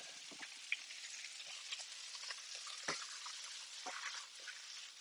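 Rye berries being stirred in a hot pan, giving soft scraping strokes with a faint sizzle and a few sharper clinks, close and quiet.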